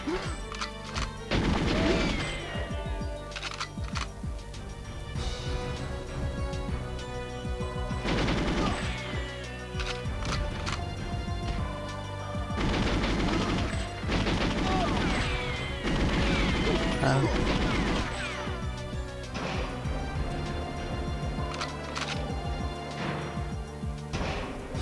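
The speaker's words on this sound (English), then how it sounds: "Shoot your target, not the ceiling." Gunfire in the Nintendo 64 game GoldenEye 007, Water Caverns level, with repeated bursts of shots and crashing impacts over a constant game soundtrack, steady and fairly loud.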